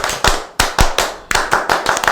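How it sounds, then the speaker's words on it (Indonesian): Rhythmic Pramuka scout hand clapping: about nine sharp, close claps in a quick patterned beat with short gaps between groups, loud and clear with no talking. "Tepuk pramuka."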